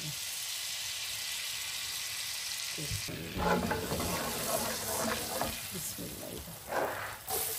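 Butter and a little oil sizzle and crackle steadily in a hot pan, a dense frying hiss that grows busier and louder partway through with scraping and stirring sounds.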